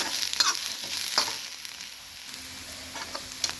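Snake gourd (padwal) is stirred and dry-roasted in a pan (kadhai), giving a soft continuous sizzle broken by scraping spatula strokes, close and fairly quiet, with no voices.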